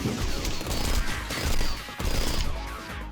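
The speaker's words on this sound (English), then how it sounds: "I'm able to reliably fill up that overkill meter now because of this assault rifle" Rapid assault rifle fire in the video game Rengoku: The Tower Of Purgatory rattles loudly and continuously with dense, crashing bursts and a brief break near the middle, with no talk over it.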